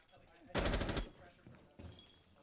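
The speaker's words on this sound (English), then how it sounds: "McStuffin's now going to get hit with a couple bullets." Gunfire in a Rainbow Six video game match: a sharp half-second burst of rapid automatic shots, followed by a fainter second burst, with brief commentary-style talk around it.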